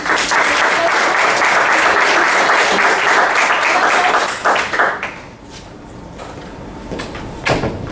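Audience at a leadership programme inauguration bursts into loud, dense applause that carries for about five seconds, then thins into scattered claps and a few closer, sharper hits.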